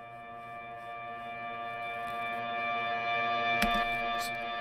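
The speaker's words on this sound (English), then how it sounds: "I made this reverse reverb effect that just kind of like went into this huge heavy lead" A reverse reverb effect swells steadily on a sustained, harmonically rich tone, growing louder toward a sharp burst near the end, as if leading into a heavy guitar lead.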